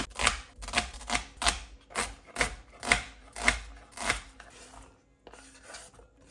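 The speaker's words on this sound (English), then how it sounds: "I'm just gonna quickly chop one red onion" Knife chopping a red onion on a board: about ten crisp, evenly spaced chops close up, slowing toward the end with a short pause before a few final cuts.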